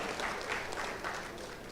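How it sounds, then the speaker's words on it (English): A town hall audience applauds steadily, a dense wash of many hands clapping at moderate distance with no talk over it. "Can we get a round of applause for Mr. Dulal-Chan?"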